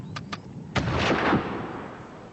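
Boer artillery firing at Spion Kop, heard as two quick sharp reports followed by a heavier booming blast that rolls on with a rumbling tail.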